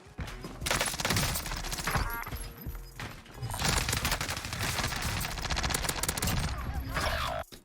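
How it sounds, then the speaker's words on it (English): Dense gunfire rattles through a Call of Duty Warzone match: rapid automatic bursts and overlapping shots rise and fall over nearly eight seconds, loud and close, with brief lulls between volleys. "there's shots coming in from my left"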